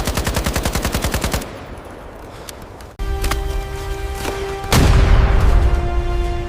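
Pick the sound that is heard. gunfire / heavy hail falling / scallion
gunfire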